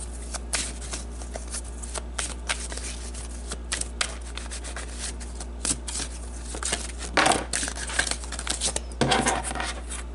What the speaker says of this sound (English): So let's pull some more cards to get more information.